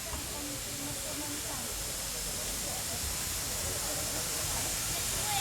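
A BR Standard Class 4 mixed-traffic tank steam locomotive, No. 80151, arrives at a Bluebell Railway platform with a service from Kingscote, giving off a loud, steady hiss of steam that holds unbroken throughout, with low rumbling underneath.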